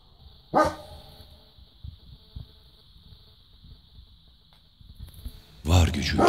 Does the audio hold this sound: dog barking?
yes